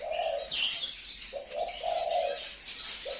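Zebra finches, small Australian songbirds, singing in a run of bright chirps and short nasal, tonal notes that repeat in quick bursts, close and clear with no talking.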